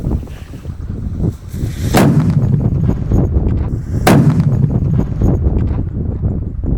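Two sharp, loud blasts about two seconds apart from Voltar-brand firecrackers, each cracking over a steady rumbling background, outdoors.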